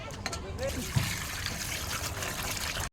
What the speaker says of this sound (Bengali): এবার জল দিয়ে ধুয়ে নিচ্ছি, পরিষ্কার জল দিয়ে ধুয়ে নেবো একবার